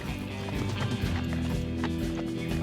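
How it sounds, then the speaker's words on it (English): A horse gallops through an Old West frontier town, its clip-clop hoofbeats loud and steady for the whole stretch inside a dense, layered background mix. "Oh, a horse. Ride him, cowboy."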